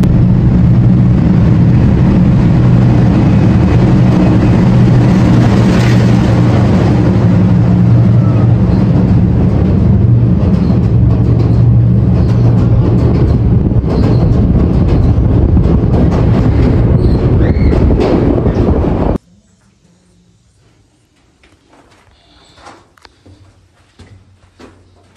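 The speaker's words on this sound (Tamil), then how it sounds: "டனலுக்குள்ளே வந்து ட்ரெயின் என்ட்ராக ஸ்டார்ட் பண்ணும்போதே" A train roars loudly through an enclosed space for about twenty seconds, a dense rumbling drone that cuts off abruptly, leaving faint scattered rustling and knocks.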